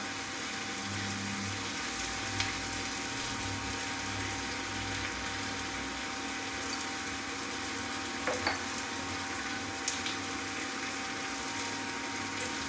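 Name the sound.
coriander powder being stirred and sautéed in a pan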